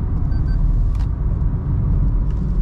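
Steady in-cabin road rumble and engine drone of a Toyota Glanza AMT hatchback slowing under braking from above 100 km/h, loud and continuous with no talk.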